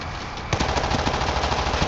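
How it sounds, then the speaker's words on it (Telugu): Sustained machine gun fire from a mounted gun in the co-op zombie shooter World War Z, set in Tokyo, a steady rapid stream of loud close shots starting abruptly after a brief lead-in. "మిషన్ గన్ ఉన్నా."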